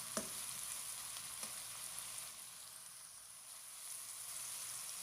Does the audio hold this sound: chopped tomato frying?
yes